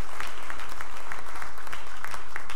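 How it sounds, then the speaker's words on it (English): A church congregation claps together: dense, continuous applause with a few sharp hand claps standing out, lasting a couple of seconds. "give the Lord one more hand clap."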